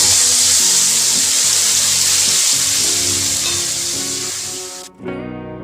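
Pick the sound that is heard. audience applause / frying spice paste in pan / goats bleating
frying spice paste in pan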